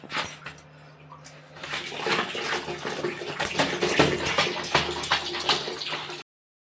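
Water splashes and sloshes steadily as clothes are hand-washed at home, a close, continuous wet churning with small knocks, running for several seconds before stopping abruptly.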